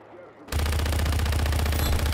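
After a brief quiet moment, loud sustained gunfire and explosions erupt in Just Cause 3, a dense rapid rattle of shots continuing to the end.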